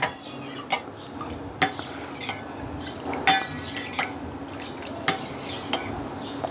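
Spoon clinking and scraping against a bowl while a sugar mixture for kharvas is stirred, with irregular sharp taps every second or so over a steady low background.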